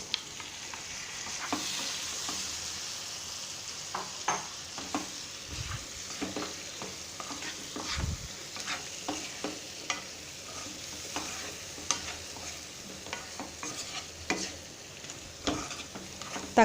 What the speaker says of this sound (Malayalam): ഇതെണ്ണയ്ക്കകത്തുനിന്ന് ഫ്രൈ ആയതിന് ശേഷം തക്കാളി ഇട്ട് കൊടുക്കാം.